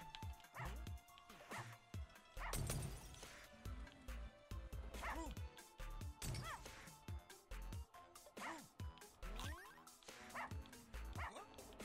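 Dogs bark and yip repeatedly in the Russian subway game, sharp bursts scattered over steady background noise and thuds, with someone talking in between.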